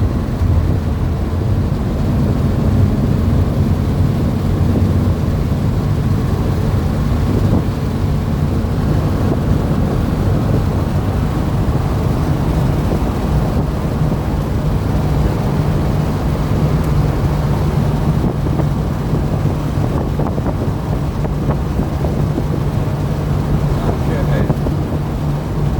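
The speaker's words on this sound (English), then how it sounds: "Ride in my Porsche 912." A 1969 Porsche 912 on the move, its engine a steady low drone wrapped in continuous road and wind rush, close and unbroken throughout.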